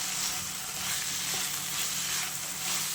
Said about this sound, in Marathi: हे छान परतून घेऊया